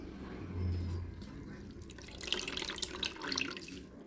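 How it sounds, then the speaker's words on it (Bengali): Water drains off grated potatoes in a kitchen sink, a steady running trickle with splashy drips close by and no voices. "জল ঝারিয়ে নিয়ে নিচ্ছি"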